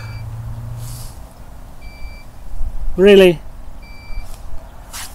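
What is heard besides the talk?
truck reversing beeps in the background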